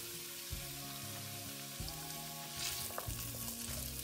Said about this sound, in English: I'm going to add in my butternut squash. And I'm going to saute that until it gets tender